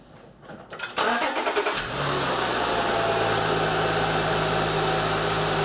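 A car engine, just back together after tensioner and idler bearing replacement, cranks briefly with a stuttering whir, catches and rises in a quick rev, then settles into a steady, close idle.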